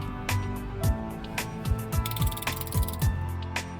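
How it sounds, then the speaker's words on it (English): A ratchet handle on an H10 extension rod loosens the steering wheel screw of a Tesla Model 3, giving a series of close, repeated clicking ratchet strokes in an irregular rhythm with no talking. "Using a longer ratchet handle makes it easier to disassemble."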